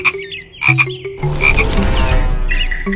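A frog croaks close up in a series of short, loud calls, first spaced apart and then run together into a longer rattling stretch, with no talking.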